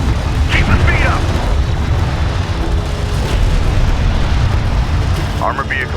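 Armored vehicle under fire in Homeworld: Deserts of Kharak, with a steady roar of booming explosions and battle noise filling the scene while game radio voices call out briefly over it.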